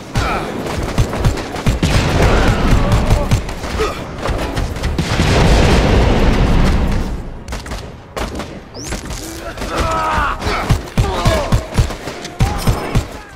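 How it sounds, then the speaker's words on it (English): Grenade blasts and heavy gunfire in the Dead Rising 4 exo suit battle, a dense, loud barrage of booms and bursts that swells mid-clip and eases toward the end, with a voice briefly audible underneath. "Who throwing all the goddamn grenades,"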